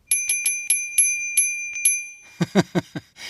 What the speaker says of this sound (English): Did you guess it was a bell on a bike?